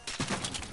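SMG gunfire in the video game Fortnite, a short dense burst of rapid shots crackling close and loud for under a second, with no talk over it.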